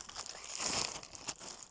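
Plastic bag crinkling up close, a continuous rustle that swells in the middle with a sharper crackle near the end.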